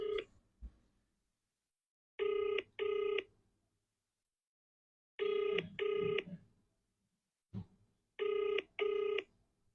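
An outgoing phone call rings back in paired bursts, three double rings spaced evenly a few seconds apart, with short clicks between them and silence in the gaps.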